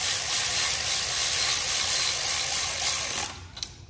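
A wrench ratchets bolts during a Honda 400EX big-bore 400cc motor rebuild, giving a steady, close, continuous clicking whir for about three seconds before it stops abruptly.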